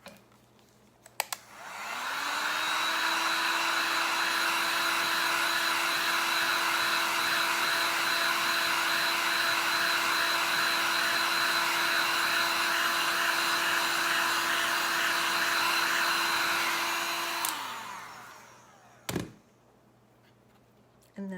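A hair dryer runs steadily for about fifteen seconds, drying paint on milk bottles, loud and continuous with a clear rising start and a falling stop, followed by a brief clatter near the end.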